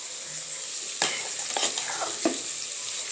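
A ground masala paste is stirred and fried in a pan for a North Karnataka style brinjal gojju curry. It sizzles steadily and close, with scraping spoon strokes against the pan.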